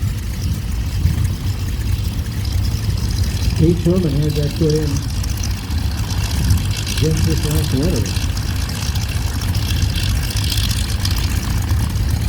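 A 670-cubic-inch aircraft engine drones steadily at startup during the Flying Circus Airshow in July 2023, a constant low rumble throughout with someone talking over it.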